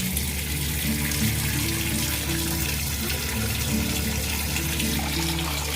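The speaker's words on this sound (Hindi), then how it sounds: "तो ये देखिए मैं अच्छे से चावल को धो ली हूँ।" Rice is washed by hand under a running kitchen tap, with a steady, loud rush of water and faint swishing that continue without a break in a domestic Indian kitchen.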